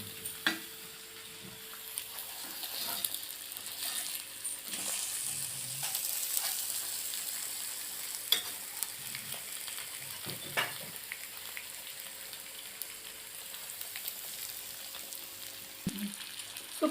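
Dried fish frying gently in a pan over low heat after being turned, a steady soft sizzle with faint crackles throughout, no voices.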